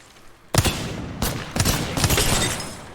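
Gunshots in the shooter game Valorant: after a short quiet pause, several loud, sharp bursts of rapid fire ring out close by in quick succession.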